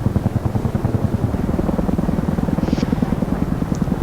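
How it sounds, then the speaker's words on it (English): CH-47 Chinook twin-rotor helicopter flying in the DCS World combat simulator, a steady loud drone with fast rhythmic rotor thumping that continues without pause. "this is a pretty fast helicopter"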